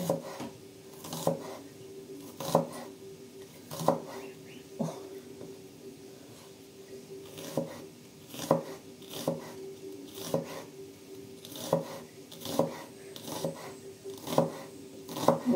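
An onion is sliced thinly into half-rings with a knife on a board for a fresh cabbage salad, the blade tapping down in a steady, repeated rhythm of light knocks and rasping cuts, close and moderately loud.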